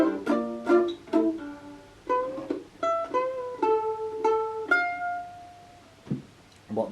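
A mandolin plays a phrase from a song's chorus, a run of bright plucked notes and short slides, up close and unaccompanied, ending with a few quieter picks.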